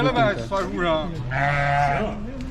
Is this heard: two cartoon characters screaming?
no